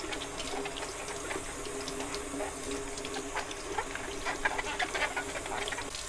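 Windfall apples washed under a running kitchen tap: steady close water flow with splashing and rubbing as the fruit is handled, with faint bumps throughout.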